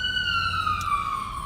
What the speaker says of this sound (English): We trying to wait for the siren to go by. This siren goes off all the time.